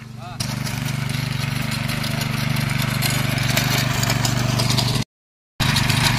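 A tractor engine chugs loudly and close by while preparing a village cricket pitch, a steady low rumble that cuts out briefly near the end.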